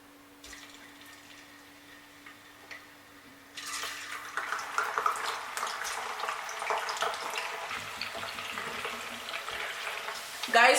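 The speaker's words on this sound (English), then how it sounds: "when you notice that your oil is hot enough, fry your shrimps and your onion." Shrimps and onion frying in hot oil for a ndole dish, starting with a quiet hum before a loud steady sizzle bursts in and continues close up, with faint stirring clatter.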